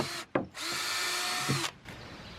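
Cordless power drill pre-drilling holes in wooden balusters for a playhouse stair: two short whirring bursts, the second a sustained run of about a second that stops abruptly, close and loud.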